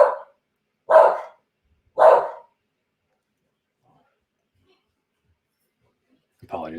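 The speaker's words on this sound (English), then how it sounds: "Apologies, I think my puppy saw someone at the door." A puppy barks at someone at the door in three sharp, separate barks about a second apart, followed by silence and then the start of a voice.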